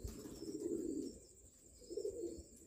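Pigeon from a home breeder cooing close by in two soft, low rolling coos separated by a short pause, faint in a quiet room.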